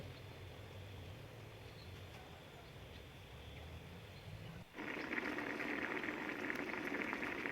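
Steady bubbling of water at a rolling boil in a pot for Isaan-style chicken cooking, a dense continuous hiss that grows louder and brighter partway through, with no voices.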